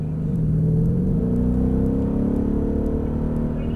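A Mercedes-Benz E63 AMG Sport engine pulls steadily on a track, its deep rumble rising as the car accelerates, loud and close throughout without any talk.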